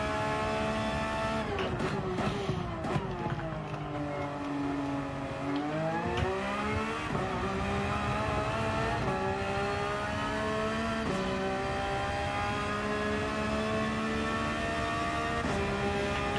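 A race car engine in a racing game time trial revs and shifts repeatedly, its pitch dipping and climbing through gears in a continuous close roar, with little else audible.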